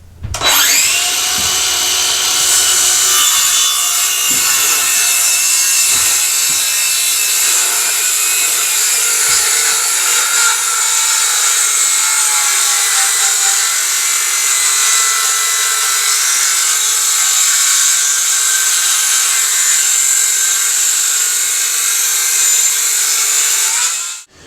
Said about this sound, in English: For a circular saw that was using a 2 amp hour battery, this cut it extremely well.